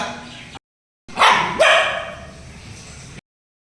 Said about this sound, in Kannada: ಬೀದಿ ನಾಯಿ ಆದ್ರೂ ಸಾಕ ಸಾಕಿದೆ ನಮ್ ರೂಬಿ